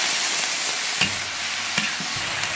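Donkey meat, glass noodles, potato strips and green and red peppers stir-fry in a hot wok. A steady sizzle is broken by a few sharp scrapes and clatters of the spatula.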